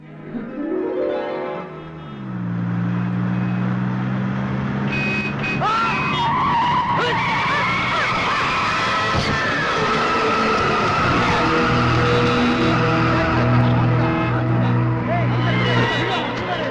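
A film comedy scene opens with a car braking hard and its tyres screeching, followed by a sustained skidding screech and what sounds like a crash. Crowd babble and talk carry on loudly underneath the whole time.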